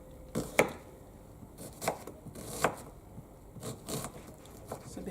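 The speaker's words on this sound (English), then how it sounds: "I'm using the knife. And you do not need to cut your onion too small." Knife chopping an onion into chunks on a board for chicken soup, a handful of sharp, separate cuts at an uneven pace, close and fairly quiet.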